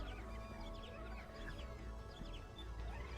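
Hamachow birds in the video game Skies of Arcadia, a busy flock of high chirps and clucking calls over a steady hum, fairly faint and without speech.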